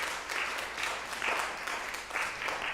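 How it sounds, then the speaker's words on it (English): Congregation at a Sunday church service gives steady, moderate applause, a continuous wash of many hands clapping at a little distance, fairly even throughout. "Let's give a round of applause."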